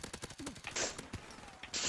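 A PPSh submachine gun fires in Call of Duty: Modern Warfare Remastered. The rapid, evenly spaced reports form a fast automatic stream, fairly close, with a couple of sharper bursts and brief breaks, while a voice briefly talks over them.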